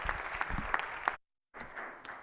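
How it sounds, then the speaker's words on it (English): Clapping for pages in a state Senate floor session is a short burst of moderate applause from a chamber audience, cut by a brief silent gap before the clapping resumes. "Give them a round of applause."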